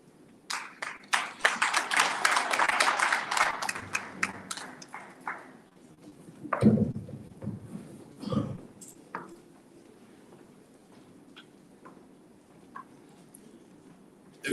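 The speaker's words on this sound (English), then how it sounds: "A very big round of applause indeed for this presentation." Audience applause after a presentation at a summit, starting with scattered claps, swelling into a dense burst, then thinning into a few isolated claps and taps.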